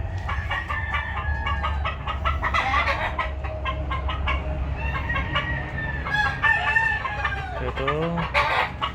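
Imported Kelso and Yellow-legged Hatch gamefowl roosters crowing several times, close and overlapping, with clucking between the crows and someone speaking under them.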